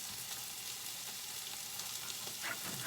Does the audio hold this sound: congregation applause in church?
no